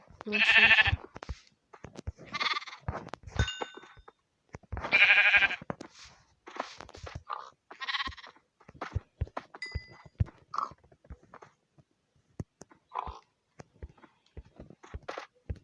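Repeated Minecraft sheep bleats, several loud and close, scattered among short clicks and rustles, with no talking.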